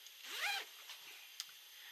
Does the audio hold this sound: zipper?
yes